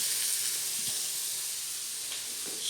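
Aloo saag ingredients stir-fry in a pan with a soft, steady hiss of sizzling oil and a few faint clinks, fairly quiet and close for under three seconds.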